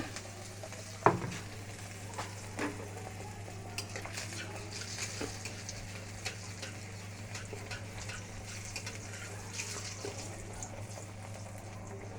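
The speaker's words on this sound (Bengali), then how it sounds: "কড়াইশুঁটির কচুরি হচ্ছে।" Green pea kachori frying in a pan, a quiet continuous sizzle with scattered soft pops and an early metallic clink, with no voices.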